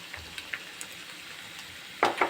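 Quiet, steady sizzling of onion and pressed garlic frying in a pan, with a few soft scraping stirs and a louder clatter near the end.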